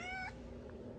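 A cat wearing a cone gives one short, fairly faint meow with a slight rising tone, followed by quiet room noise.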